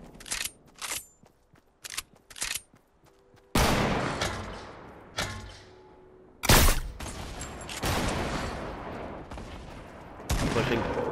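Sniper rifle shots in a Fortnite-style shooter game: several sharp, loud cracks ring out one after another, each with a short tail, separated by quieter stretches and brief bursts of other gunfire.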